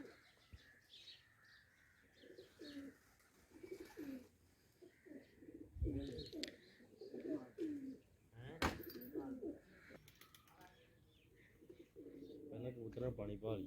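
Village pigeons let out to feed and drink give repeated low cooing calls, close and faint, with a voice speaking intermittently over them and a sharp knock partway through.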